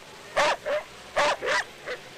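A dog gives a few short barks and whimpers, five distinct yelps in two close pairs and a softer final one, fairly near against a quiet room background.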